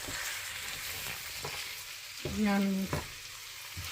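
Chilli chicken with chilli sauce sizzling in a pan as it is stirred, steady frying hiss with several stirring scrapes and a brief tonal clatter near the end, with a short spoken word.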